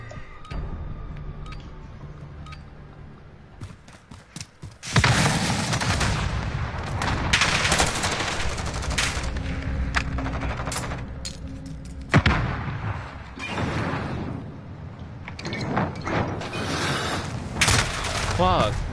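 Heavy gunfire in a late-night multiplayer shooter match erupts suddenly and keeps going as dense, rapid close-range volleys with sharp individual shots. Quieter ambience comes first, and faint voices sit under the firing.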